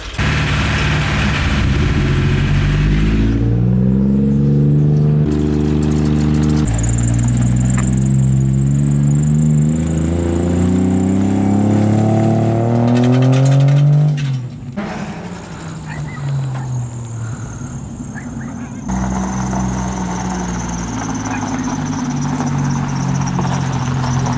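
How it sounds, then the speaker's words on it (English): A truck engine revs repeatedly, its pitch climbing and falling in several strong surges before settling to a lower, rough idle, loud and close with no talking. "gonna go rev up the truck"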